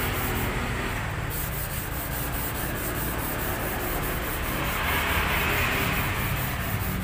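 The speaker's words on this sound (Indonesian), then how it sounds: "hanya begini pakai amplas" A woodworker hand-sands a saw blade with sandpaper to polish it, producing a close, steady rubbing scrape that runs without pause and with no voices.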